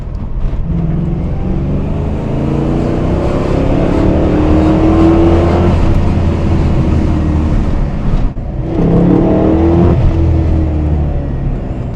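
A 1997 HSV Clubsport VS Series 2 engine loud from inside the moving car with a window open, revving up through the gears with a rising growl, a brief dip at a gear change, then climbing again.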